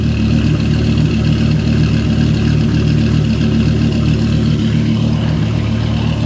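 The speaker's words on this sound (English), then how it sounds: "I could spend all day listening to this car." A military Humvee engine idles loudly and close, a steady deep rumble with a continuous low throb that holds unchanged throughout, with no voices over it.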